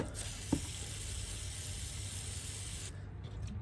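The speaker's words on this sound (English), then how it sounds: "spraying all this off." A steady hissing spray of cleaner onto the tubing of a 1997 Toyota Avalon's engine part runs for about three seconds, close by, then cuts off abruptly.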